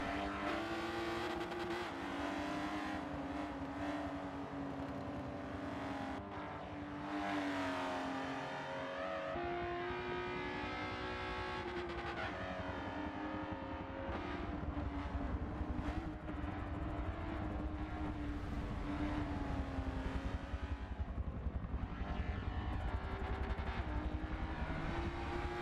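Race cars lap the Circuit de Catalunya in a charity championship race, and one driver locks up under braking into turn 1. Engines roar loud and continuous throughout, rising and falling in pitch as the cars brake and accelerate, with no voices.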